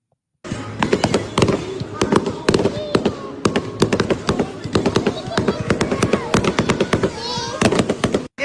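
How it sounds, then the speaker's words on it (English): Loud fireworks going off in rapid succession, with dense sharp bangs and crackles that keep coming almost without a break for several seconds. "During the fireworks,"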